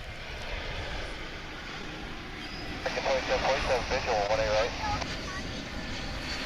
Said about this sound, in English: We've got American Flight 681 coming in from Cancun, and there it is. It's an A321.